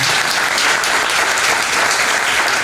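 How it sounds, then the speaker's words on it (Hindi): An audience claps loudly and without a break, a dense, even roar of many hands sustained from start to finish with no voices over it. "उनके लिए भी जोरदार तालियां बजाएं"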